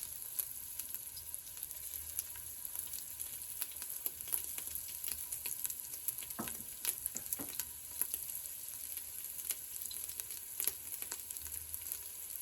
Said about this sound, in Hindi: 1 खाने का चम्मच हम लहसुन डालेंगे, 1 खाने का चम्मच हम अदरक डालेंगे और थोड़ी देर इसको फ्राई करेंगे।